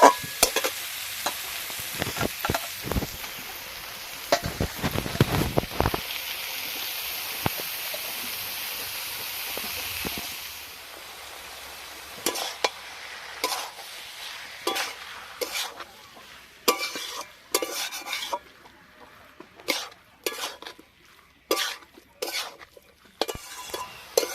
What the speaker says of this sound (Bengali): আলুর সঙ্গে থোড়ও খুব ভালো করে নাড়াচাড়া করে মিশিয়ে নিয়েছি